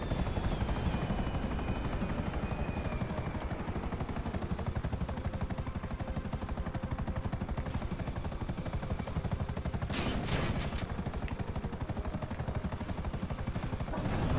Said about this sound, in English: That helicopter flew right over me